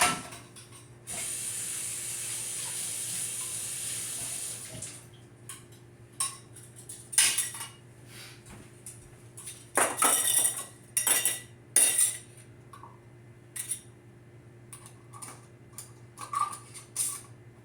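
Metal canning lids and screw rings clink and scrape onto glass jars of homemade vegetable soup, a steady hiss underneath, with a run of sharp close clatters and ticks coming in bursts.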